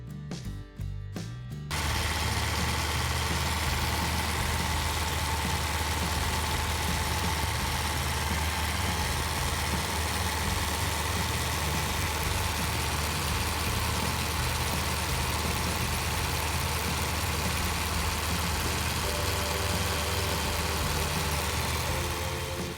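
A street legal go kart engine fitted with a chain drive and a skateboard wheel starts after a few clicks and then runs steadily, a loud continuous rumbling drone with no talk.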